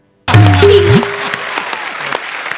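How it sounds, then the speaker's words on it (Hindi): A studio audience on the Kapil Sharma comedy show breaks into loud, sustained applause that starts abruptly over a brief musical sting, then keeps going as dense, steady clapping with no one talking. "ठोको ताली।"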